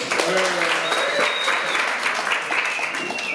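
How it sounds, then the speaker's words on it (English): Studio audience applause greeting a guest being welcomed to the stage, steady dense clapping throughout with a voice speaking over it. "Please help me in welcome Tania"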